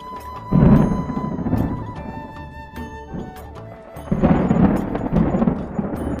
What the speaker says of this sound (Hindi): तभी चढ़ाई करते समय भारी बारिश होती है